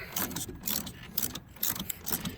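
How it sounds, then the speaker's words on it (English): A ratchet with an Allen socket clicks rapidly while brake caliper slide pins are removed on a 2000-07 Mazda Tribute or Ford Escape, several short bursts of close metallic clicking in an uneven rhythm. "So you take these two slide pins out, and then you should be able to pull your caliper right off."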